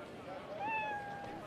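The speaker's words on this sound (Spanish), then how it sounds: "¿Ves a los gatos? Están en todos lados." A cat meows once in a long, rising and falling tonal cry, fairly faint and set against a murmuring background in a place where cats roam everywhere.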